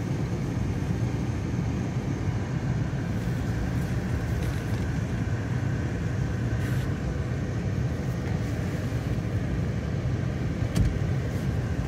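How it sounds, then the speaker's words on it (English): A 1976 Cadillac Seville drives on a test drive, giving a steady, continuous low rumble of engine and road noise heard from inside the car, with no talk. "I hope you enjoyed the test drive on my 1976 Cadillac Seville"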